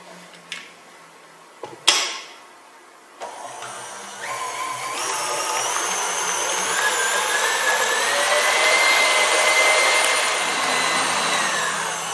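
An electric mixer beats sponge cake batter for a Brazilian pão de ló, a steady whirring drone that starts after a few knocks and grows slightly louder and denser as it runs on alone.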